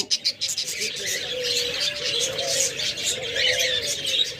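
Diamond doves sitting in egg-laying bowls give soft, repeated low coos amid steady chirping and twittering from other birds nearby.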